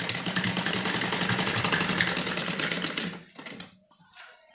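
A sewing machine stitches a pleated frock onto buckram, a fast steady mechanical rattle that runs for about three seconds, then slows and stops with a few faint clicks.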